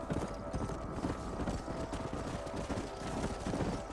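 A horse gallops in Red Dead Redemption, its hooves drumming in a fast, steady, continuous rhythm that stays even from start to finish.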